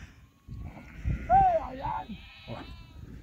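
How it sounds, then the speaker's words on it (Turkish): Sheep bleat as a flock arrives on a Turkish farm, with a clear bleat rising mid-clip over a rustling outdoor background and faint talk. "Arkada kalan koyunlarımız var. Onlar da yavaş yavaş geliyor."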